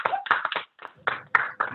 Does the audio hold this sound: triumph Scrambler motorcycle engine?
no